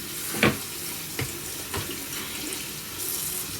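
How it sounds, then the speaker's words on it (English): Kale is washed in a kitchen sink under running tap water: a steady close splashing stream with a few louder splashes as the leaves are handled, and no voices. "kale that I have to wash several times"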